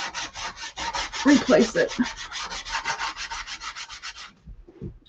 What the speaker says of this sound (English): Just using my little finger sander.